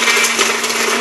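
A powerful countertop blender runs at full speed, a loud steady whirring roar with a constant motor hum, heard alone for about a second.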